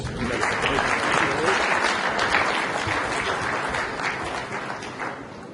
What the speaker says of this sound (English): I didn't hear you clap for the Lord.